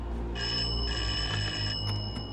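A telephone rings inside a spooky mansion in The Haunted Mansion film, a bright electronic trill in repeated bursts over a low rumbling background score.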